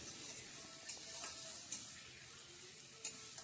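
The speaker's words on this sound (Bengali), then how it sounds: "আলু দিয়ে মশলার সঙ্গে আর একটু সময় কষিয়ে নেব" Potatoes and spices sautéing in a pan for a vegetarian fish-style curry, a steady close sizzle with a few sharp stirring scrapes scattered through, no talk.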